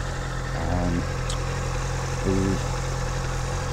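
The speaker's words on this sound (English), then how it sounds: "Give it a couple of revs first." A Honda CBR650F motorcycle engine idles steadily and is revved twice in short bursts, close by, with no talking.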